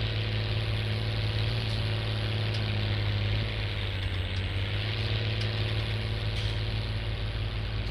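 Steady idling drone of a Case IH Magnum tractor engine in Farming Simulator 19, a continuous low rumble with a constant hum, loud and unbroken throughout with no talk.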